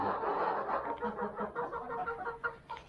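A rooster in a chicken coop clucks and calls nearby in short, uneven bursts, fairly close with no talking over it.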